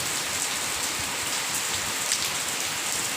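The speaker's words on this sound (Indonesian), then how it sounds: "Hujan-hujan" Rain falls steadily in a dense, even patter that stays unbroken and fairly loud from start to finish, with no voices.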